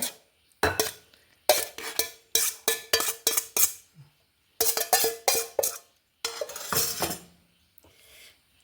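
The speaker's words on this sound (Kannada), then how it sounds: "ಈಗ ಬೌಲಿಗೆ ಟ್ರಾನ್ಸ್ಫರ್ ಮಾಡ್ಕೊಂಬ. ಬೌಲಿಗೆ ಹಾಕೊಂಬ." Banana stem stir-fry with garlic, neem leaves and moong dal scraped from a pan into a bowl: repeated sharp metal spoon clinks and scrapes in quick bursts, close and loud, separated by brief pauses.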